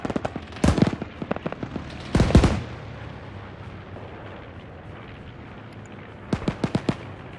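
Video game battle with artillery fire and strafing fighter gunfire: sharp bursts of booming shots near the start and middle, then a rapid cluster of cracks at the end, over a steady rumbling background.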